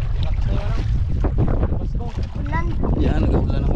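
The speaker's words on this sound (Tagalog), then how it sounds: "Lakas rin yung hangin." Strong wind roars over a fishing boat at sea, a steady loud rush of wind noise with water sounds, with people talking under it.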